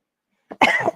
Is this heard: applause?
no